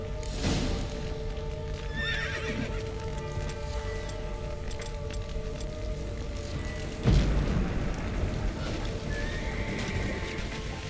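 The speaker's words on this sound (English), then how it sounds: "The horses!" Horses neigh and whinny in The Witcher 3 game, with clip-clopping hooves and a dull boom partway through, steady and fairly loud with no talk.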